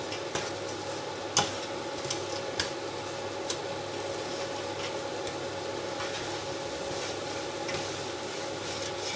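Brown sugar and walnuts roast in a pan on the stove, giving a steady soft sizzle with scraping stir strokes and occasional sharp ticks of the spoon against the pan, close by, with no talk.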